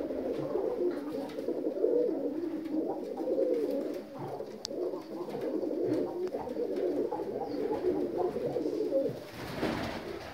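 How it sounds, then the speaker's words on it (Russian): North Caucasian fighting pigeons coo steadily in a low, throaty murmur, several birds overlapping in continuous rolling calls, close and moderately loud. "Вот такой вот голубь."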